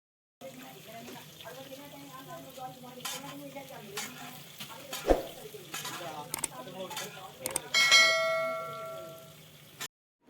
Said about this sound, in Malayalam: ചെറിയ ഉള്ളി കട്ട് ചെയ്ത് വെച്ചതിനെ എണ്ണ മൂത്ത എണ്ണയിലേക്ക് ഇട്ട് കൊടുക്കുന്നുണ്ട്